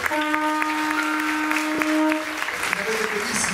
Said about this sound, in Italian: facciamo un applauso a queste 23 ragazze